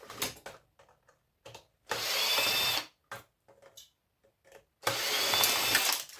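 A power drill backs screws out of electrical scrap in several short bursts of whining, high-pitched spinning, two of them longer and louder, separated by quiet gaps and faint handling clicks.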